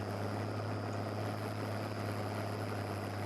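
A strained turbo engine on a vintage farm machine in a farming game gives a steady, loud drone with a strong low hum and a faint high whine, unchanging throughout and with no voices.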